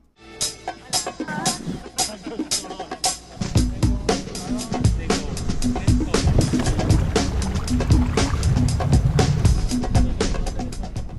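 Kayak paddles dip and splash rhythmically near the water around Isla de Santa Clara, with a busy wash of sloshing water building as strokes continue, and voices are heard over the scene.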